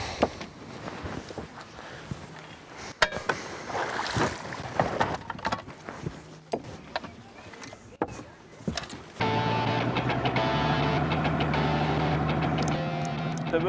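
Fishing boat outboard motor running on a lake in winter, a steady droning hum that starts partway through and continues loud and close after a stretch of wind and handling noise, with people talking nearby.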